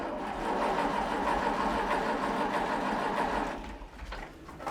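Several tractors and a road roller rumble out of a barn together, a dense mid-pitched engine drone that holds steady, then eases and thins near the end with some clattering.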